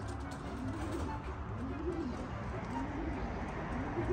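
Racing pigeons coo at their loft, soft repeated rolling calls at close range with several birds overlapping in a steady murmur.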